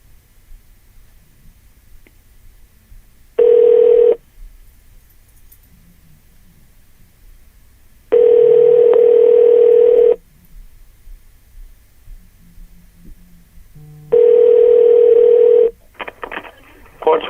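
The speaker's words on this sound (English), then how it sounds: "now let's do a test phone call using the chocolate swirl" A phone call is placed through a cheap chocolate-swirl emoji Bluetooth speaker: three loud, steady electronic tone bursts, each one to two seconds long, separated by quiet gaps, with faint handling noise at the end.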